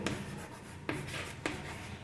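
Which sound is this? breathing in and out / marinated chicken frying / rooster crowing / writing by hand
writing by hand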